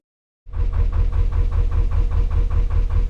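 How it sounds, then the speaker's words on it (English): A narrowboat engine starts up and runs steadily on the River Weaver, a loud, close, rhythmic diesel chug with an even pulsing beat and no voices over it. "So guys, I've got the engine on."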